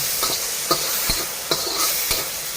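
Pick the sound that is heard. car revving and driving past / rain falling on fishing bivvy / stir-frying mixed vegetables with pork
stir-frying mixed vegetables with pork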